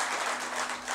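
A brief burst of thick, continuous clapping from a crowd gathered for a Hindi religious sermon, loud and even across the moment.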